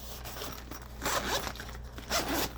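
A zipper on a Bible kit pencil case is pulled in two quick strokes, a rasping close-up zip with a short pause between the runs.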